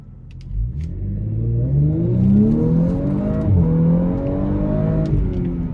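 A 2018 Audi S5 Prestige in dynamic mode pulls hard, the engine note climbing steadily through a strong, smooth rev sweep with a brief shift dip, close and loud with no talking.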